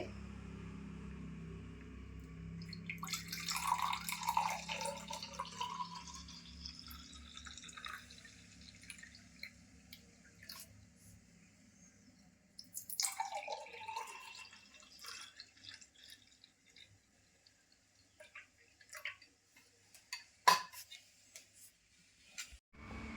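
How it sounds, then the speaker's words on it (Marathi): Solkadhi, a Malvani kokum and coconut drink, is poured into a glass in two separate pours, each a faint close trickle that rises in pitch as the glass fills, with a few drips in between. "आता मी ती ग्लासात ओतून घेते"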